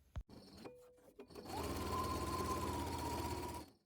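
A sewing machine runs steadily for about two seconds, stitching a quarter-inch French seam through fabric placed right sides together, preceded by a few brief clicks and handling noises, close and alone with no talk.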